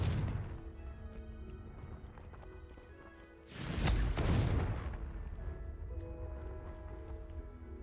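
A Confringo blasting spell goes off in the video game Hogwarts Legacy, a sudden loud burst that swells for about a second and a half, then fades into a lingering rumble over ambient game music.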